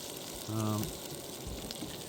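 Food sizzling in a hot frying pan at an outdoor cook-up, a steady close hiss and crackle throughout with a brief low hum partway through.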